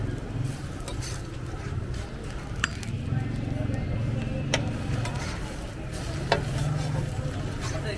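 Steady sizzle and scraping of an egg frying on a hot pan at a Pakistani street food stall in Attock City, with occasional metal clinks and people talking nearby.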